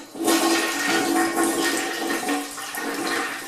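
A Toto toilet is flushed with the handle held down, a sudden loud rush of water that surges and gurgles as the tank drains, continuing steadily to the end with no talking.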